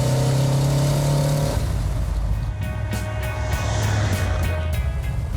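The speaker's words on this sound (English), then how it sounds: "This is a 3rd gear pull." Manual car pulling hard in third gear at around 45 mph, a steady close engine drone rising in pitch as it accelerates, with constant road and cabin noise throughout.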